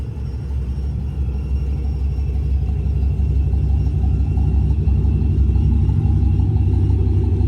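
Supercharged Chrysler 300C sits idling with a deep, steady engine rumble, low and continuous throughout, heard close with a faint whir on top and no talking.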